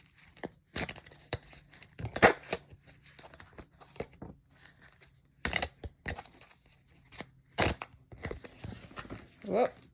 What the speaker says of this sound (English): I gotta shuffle again.